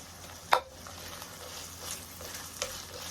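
Onions and carrot frying in a pan for a meatless vegetable paella, a quiet steady sizzle with one sharp clatter near the start and a lighter knock later, no voices.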